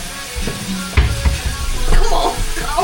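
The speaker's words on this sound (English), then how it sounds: "we're boiling cabbage" Cabbage cooking in a pot, with soft sizzling and bubbling, a few knocks of utensils against the pot, and faint scraping and stirring up close.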